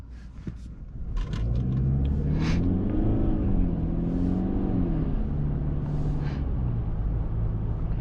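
A 2024 Mercedes E-Class AMG sedan with a 2.0-liter diesel accelerating, a low engine drone rising in pitch in smooth steps as it gathers speed, heard from inside the cabin with some brief clicks early on.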